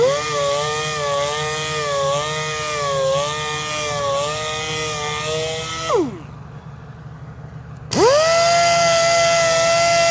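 A power sander works 320 grit sandpaper across a curb-rashed, machined Audi A3 wheel rim, a loud close whine that wavers, stops for about two seconds, then spins back up.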